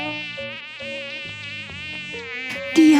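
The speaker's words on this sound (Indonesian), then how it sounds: "Itu adalah suara nyamuk," A mosquito's thin, high whine buzzes continuously, wavering in pitch as it circles close by, growing louder at the end.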